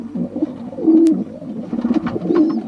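Pigeons in a loft coo softly and repeatedly with low, throaty rolling calls, some overlapping, and a brief higher chirp mixed in. Steady and close, with no voices.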